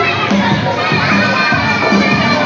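A big crowd of kids at a sports event yells a loud, sustained greeting in unison. The shrill, close-up chorus fills the whole moment with overlapping voices.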